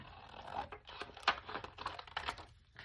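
Scrapbooking paper being cut into pieces for paper roses, a quick run of close, crisp snipping and rustling strokes, fairly quiet and alone.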